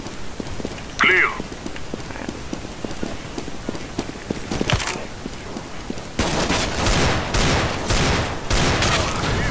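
Desert Eagle pistol fire in Counter-Strike: Global Offensive, sharp shots popping out of busy game noise, with rapid crackling bursts of gunfire taking over in the second half as players talk over the action.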